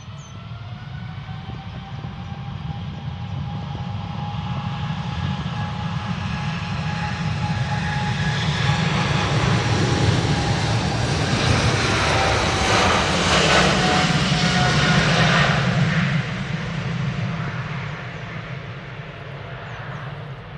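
An Etihad airliner departs Manchester Airport, its engine roar swelling steadily from a distance to a loud, broad rumble with whining tones, peaking near the end before beginning to fade.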